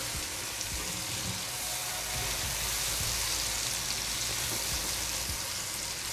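Fish curry masala with tomato paste frying in a pan, giving a steady, dense sizzle with soft crackles and no speech.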